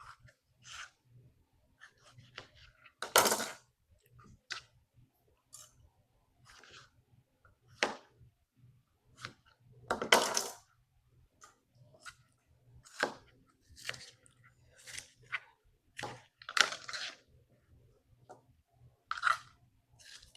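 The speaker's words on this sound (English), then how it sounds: "I'm going to cut this tomato" A knife slices through a tomato in a home kitchen, making soft, wet, crunchy cuts in irregular bursts, close and quiet against a low steady hum.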